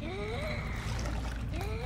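Rowing through water in the game Papetura, using a character as an oar: a steady bed of splashing and gurgling water with soft paddling strokes, accompanied by rising tonal game sounds and background music.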